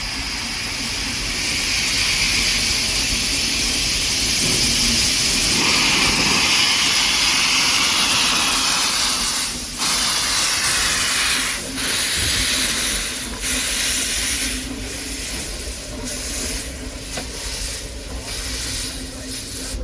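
A Walt Disney World Railroad steam train pulls out of Main Street Station in the Magic Kingdom, with steady loud hissing steam and rumbling wheels, and sharp rhythmic chuffs that quicken in the second half.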